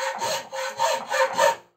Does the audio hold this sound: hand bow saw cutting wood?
yes